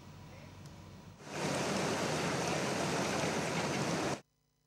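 A cold lava flood from Mount Semeru churns down the Leprak River in Lumajang, East Java, bursting in as a loud, dense roaring torrent for about three seconds before cutting off abruptly.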